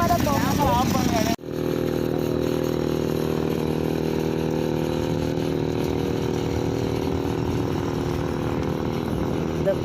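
A homemade mini bike's small petrol engine catches and runs at a steady, buzzing drone close by, after a brief moment of voices.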